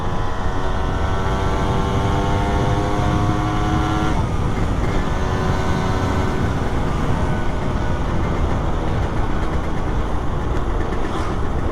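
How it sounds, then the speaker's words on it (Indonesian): Suzuki Satria 120 two-stroke motorcycle engine revving hard as the throttle opens, a loud steady drone with rising harmonic pitch that drops and climbs again, continuous and close throughout with no talk. "Narik gas dikit aja udah ngejambak banget ya."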